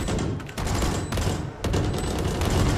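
Dense, sustained gunfire spam from many weapons in a Valorant match, loud and continuous with brief dips, overlapping bursts of rapid shots throughout.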